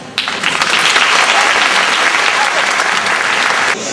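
An audience at an evening celebration in a municipal hall breaks into loud, dense applause, steady and sustained for a few seconds before cutting off.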